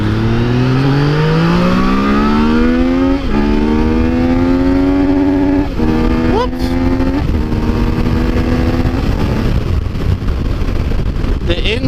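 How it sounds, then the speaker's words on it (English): A Yamaha MT-09 motorcycle accelerates hard and loud, its engine pitch climbing through several gear changes before easing off near the end. "This is my first time accelerating on this bike."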